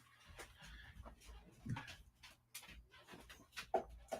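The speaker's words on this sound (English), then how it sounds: "He's barking at me." A dog gives a few faint, scattered woofs and whimpers indoors, along with panting and soft clicks, all low and distant with no talking.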